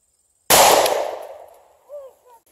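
A single sharp .45 caliber gunshot fired into expired Second Chance Ultima Level II body armor, a loud close crack that rings and decays over about a second, followed by faint brief sounds.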